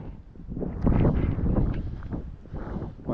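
Wind gusts outdoors during a cold, windy walk as a cold front passes, buffeting the microphone with a steady, rumbling roar that rises and falls throughout.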